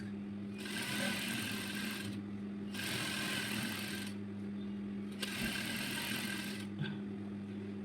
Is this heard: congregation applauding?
no